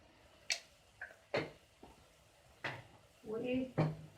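Onions and spices stirred in a cooking pot, a spoon scraping and clinking against the metal in several separate knocks and scrapes with a faint sizzle, a voice talking in between.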